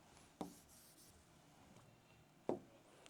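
Writing on a board while physics problems are being worked, with two short, sharp marker strokes about two seconds apart over quiet room tone, and no speech.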